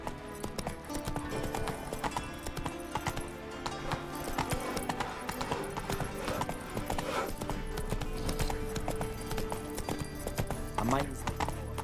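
Roach, a horse in The Witcher 3: Wild Hunt, gallops with rapid rhythmic hoofbeats and a brief whinny, under a busy game soundtrack and occasional speech.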